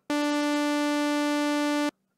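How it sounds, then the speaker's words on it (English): A single bright, buzzy sawtooth synth tone holds steady for about two seconds, rich in harmonics, then cuts off abruptly. "We could change that to a sawtooth"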